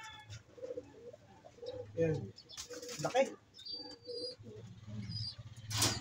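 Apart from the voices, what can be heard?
male bird cooing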